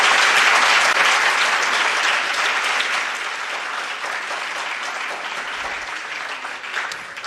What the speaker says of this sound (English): I think they deserve a resounding clap of appreciation